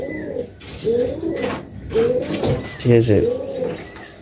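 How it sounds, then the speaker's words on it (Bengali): A male pigeon coos repeatedly in close, rhythmic bursts, a low rolling call returning about every second, with someone speaking briefly alongside. "এটা নর পায়রাটা"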